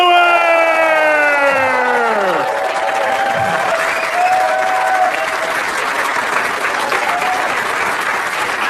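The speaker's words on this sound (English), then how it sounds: "Put your hands together for Amy Schumer!" Stand-up comedy audience at an Amy Schumer show bursting into loud, sustained applause and cheering as she comes on stage, with a falling siren-like whoop from the crowd at the start and a continuous wash of clapping after.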